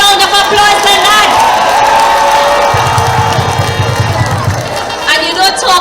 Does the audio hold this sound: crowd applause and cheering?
yes